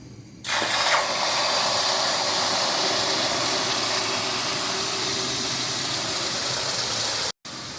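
Warm water poured over fried vermicelli (semai) in a pan on the stove comes to a boil with a loud, steady steaming hiss that starts abruptly, runs unbroken, then cuts out briefly near the end.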